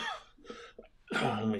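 A few sharp coughs close to the microphone, followed by a longer, rougher burst like throat clearing, with no talking.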